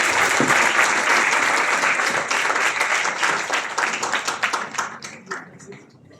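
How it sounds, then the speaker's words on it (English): Applause from a conference audience at a validictory ceremony, loud dense clapping from a crowded room that thins into scattered claps and fades out near the end, with some voices mixed in. "I am requesting to all of you give a big round of applause."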